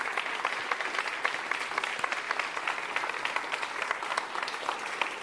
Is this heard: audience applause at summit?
yes